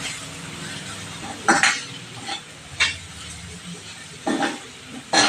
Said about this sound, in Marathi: आपण परत सगळं परतून घेऊया व्यवस्थित